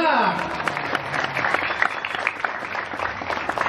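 An audience at an Islamic boarding school event claps, a busy crowd patter that carries on for a few seconds at moderate volume. Voices call out over the clapping.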